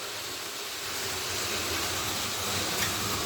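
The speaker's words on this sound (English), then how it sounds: "that's your electric train" A model electric train running on a model railway with catenary wires, giving a steady, even whirring hum that stays level throughout, with no talking.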